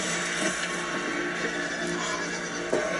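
Horses whinny loudly and repeatedly amid a dense, noisy zombie-drama soundtrack, with hoof clatter mixed in and no voices.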